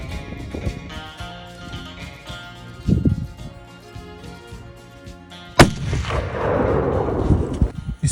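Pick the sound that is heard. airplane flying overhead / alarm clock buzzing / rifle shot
rifle shot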